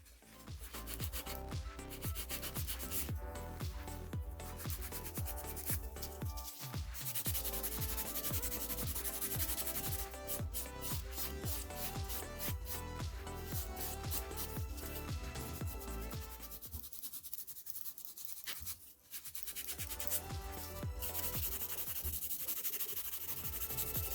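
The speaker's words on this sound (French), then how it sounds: "je prends mon buffer et je le passe bien comme il faut pour enlever toutes les traces de lime et bien lisser la surface" A nail buffer rubs back and forth over an acrylic resin nail shaped into a stiletto on a form, a close, steady scratchy sanding sound in dense rapid strokes that barely pause.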